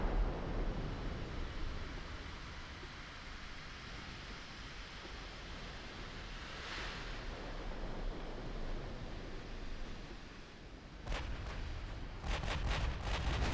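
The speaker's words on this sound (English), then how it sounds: "Hindustan had an ammo detonation" Naval gunfire and a warship ammunition detonation in the video game Ultimate Admiral Dreadnoughts sound as a continuous rumbling roar like distant sea and wind, with a few sharp distant cracks of gunfire near the end.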